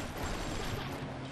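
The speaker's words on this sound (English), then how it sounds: "Tommy gun." Rapid Tommy gun fire in BioShock rattles in a continuous, fairly quiet burst, dense and unbroken under a noisy game backdrop.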